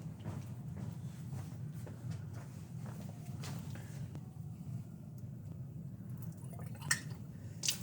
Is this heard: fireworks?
no